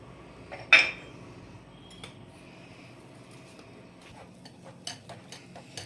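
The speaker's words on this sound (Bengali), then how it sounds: "ভালো করে আমি মিক্সড করে নিচ্ছি।" A utensil stirs cake batter with baking powder and baking soda for an orange cake, giving one sharp clink against the bowl early on, then faint scattered ticks and scrapes at a low level.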